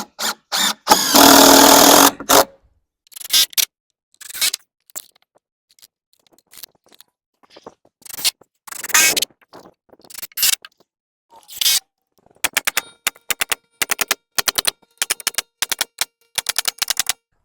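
Rapid bursts of a pneumatic nail gun driving nails into a heavy timber porch header for a barndominium, in irregular clusters of sharp loud cracks with short pauses, some rattling volleys near the end.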